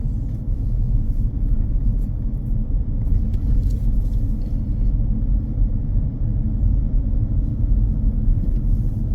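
Car cruising at steady speed along a Huddersfield road during a driving test, a continuous low engine and road rumble filling the cabin, even and unbroken throughout.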